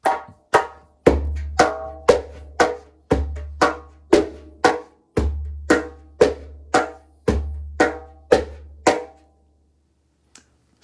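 A hand drum plays a Khaliji rhythm in four quarter notes: deep ringing palm bass tones in the center, then edge tones and a slap. The strokes are crisp and evenly spaced and repeat close up before stopping.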